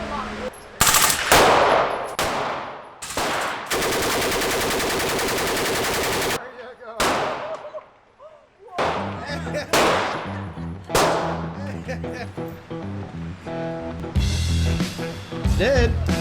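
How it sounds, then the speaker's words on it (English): A machine gun fires during police training, loud and close, in short rapid bursts and one long sustained burst, with people talking between the volleys. "Shoot it in bursts, like brr, brr."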